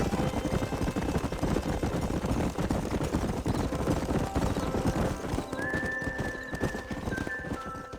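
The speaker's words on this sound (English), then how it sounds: "There's the horses!" Rapid clip-clop of galloping hooves with horses neighing and whinnying in the video game Red Dead Redemption, over a busy, loud backdrop; no one speaks.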